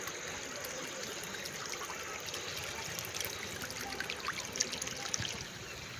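Tap water trickles and splashes steadily onto plants, a lime sapling among them, in a garden at dusk, a soft continuous flow heard alone at low level.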